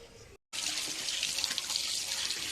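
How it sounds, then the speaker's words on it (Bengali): Palm fruits are washed under a running tap, water gushing and splashing steadily after a brief pause at the start, close and fairly quiet. "এখন মা এই তালগুলো ভালো করে ধুয়ে নিচ্ছে।"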